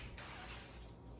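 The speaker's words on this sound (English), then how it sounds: "you need to spray the pan" Oil sprayed from an aerosol can onto a cold pan while making dunking eggs, a close, steady hiss lasting about a second.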